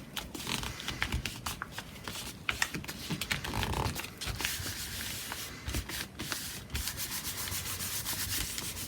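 A background paper sheet is rubbed by hand over inked stencil work, producing close, uneven scratchy rubbing strokes that carry on steadily without speech.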